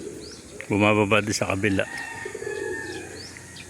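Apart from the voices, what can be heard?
pigeons cooing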